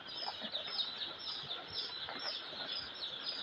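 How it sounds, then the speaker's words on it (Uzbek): Four-day-old black chicken chicks cheep continuously in a busy, overlapping chorus of high peeps from a close brood, with no talking. "To'rt kunlik jo'jalarimiz"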